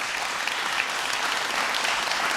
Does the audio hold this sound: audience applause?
yes